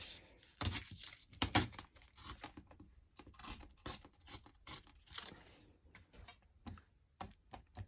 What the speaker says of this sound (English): I just tore off the white on this card.